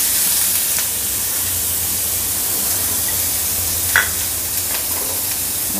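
Onion fries in hot oil with a loud, steady sizzling hiss throughout, with one brief clink of a utensil partway through and no voices.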